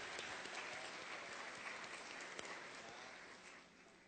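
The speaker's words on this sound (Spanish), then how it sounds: "El aplauso también es para ustedes." Audience applause at an oratory contest, a dense, steady wash of many clapping hands from start to finish, thinning slightly in the final half second.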